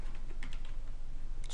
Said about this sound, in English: start typing administrator.